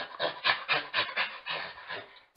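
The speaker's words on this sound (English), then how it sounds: "It's the sound of a gorilla." Rhythmic, breathy grunting and huffing from a gorilla, several rough pulses in quick succession that fade out, like a large ape panting close up.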